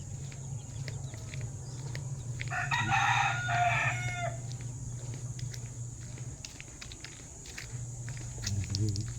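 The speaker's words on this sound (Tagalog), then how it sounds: "May mga manok dito." A rooster crows once in the distance while hens cluck intermittently, over a low steady hum and faint footsteps.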